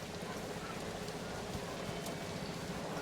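Steady rain falls in Planet Coaster 2, a dense, even hiss of drops spread across the whole clip with no breaks and no voices over it.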